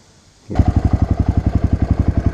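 A Honda 300 ATV engine starts and settles into an idle near 660 RPM, a loud, close, low putter with evenly spaced pulses after a quiet moment.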